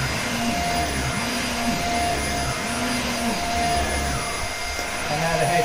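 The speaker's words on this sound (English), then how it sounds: "Okay, here we are with the hoover." A Dyson vacuum cleaner runs with a steady, loud motor drone and whine that holds throughout, with no talk over it.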